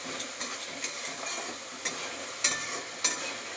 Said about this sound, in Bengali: এবার আবার একটুখানি নেড়ে নিচ্ছি